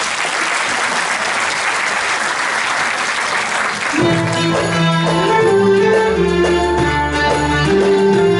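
Applause from a concert audience for a choir performing compositions, dense and steady for about four seconds before music enters and plays over the clapping's tail.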